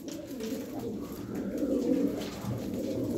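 A flock of eighteen blue tumbler pigeons coos steadily up close, with soft overlapping throaty calls continuing without pause.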